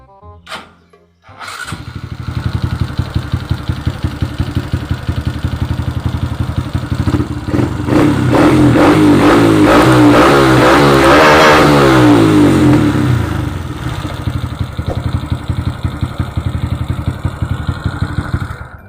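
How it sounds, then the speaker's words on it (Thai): A Honda Wave 125i motorcycle fitted with a swapped PCX fuel injector starts after a short crank, then idles and revs up hard before settling back to a steady idle, loud and close with no talk. "พอเปลี่ยนเสร็จแล้วเนี่ยก็ลองสตาร์ทดูนะว่ามันจะติดไหมนะ"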